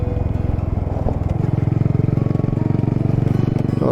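A small Honda Monkey motorcycle is ridden along a Scottish loch road, its single-cylinder engine buzzing steadily and close throughout, with a rapid pulsing throb.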